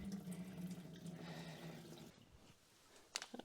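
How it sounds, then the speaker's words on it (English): Fuel drips and trickles from a drained, rusted car fuel tank into a pail, a soft continuous wet patter fading out, followed by a few sharp close drips near the end, with no talk. "dripping now a little bit after it drained"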